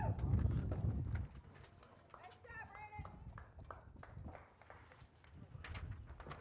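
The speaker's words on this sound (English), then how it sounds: "And making the way to the winner's circle will be the number eight horse, Lone Star Tap." A harness racing horse walks toward the winner's circle at a race track, its hooves clip-clopping faintly in a loose rhythm under a track announcer's voice, with a brief whinny-like cry midway.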